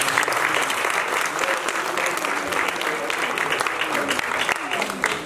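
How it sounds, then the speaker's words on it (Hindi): An audience at a theatre festival's lifetime achievement award ceremony applauds an honoree, dense, sustained clapping throughout. "इस नौजवान के लिए तालियां।"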